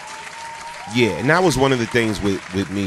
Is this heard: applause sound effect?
yes